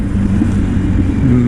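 Kawasaki Z900 sports motorcycle ridden through city streets, a loud, close, steady engine rumble with a low droning tone and slight pitch shifts, no talk over it.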